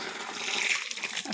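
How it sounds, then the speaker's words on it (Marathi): Water from a household tank runs out in a steady, hissing gush, close and fairly loud for the whole short stretch, with no voices over it. "घरचं पाणी सोडून टाकते"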